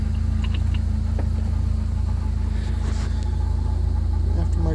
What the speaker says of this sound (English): Jeep runs and drives great.